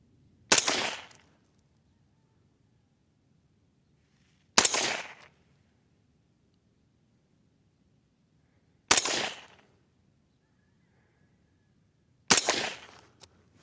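Four rifle shots ring out at an outdoor shooting range, each a sharp loud crack with a brief decaying echo, spaced about four seconds apart with quiet between them.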